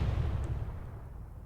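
Ship guns firing in Space Engineers, a deep booming blast with a heavy low rumble that slowly fades, with no voices.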